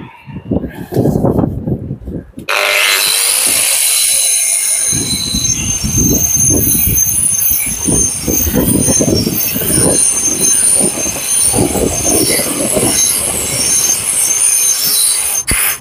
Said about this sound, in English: keep going over with that cup disc now to get it nice and level again